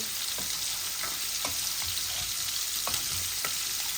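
Meat sizzles and fries in a pan while being stirred for a bhuna with broad beans, with a steady frying hiss and scattered scraping clicks of the spoon; no one talks.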